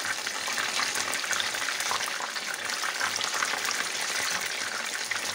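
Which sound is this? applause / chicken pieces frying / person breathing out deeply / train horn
chicken pieces frying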